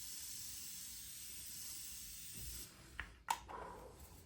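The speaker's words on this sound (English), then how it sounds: "Now I'm just gonna spray." A hairspray or setting spray gives a couple of short, close hissing bursts near the end, following a stretch of quiet room hiss.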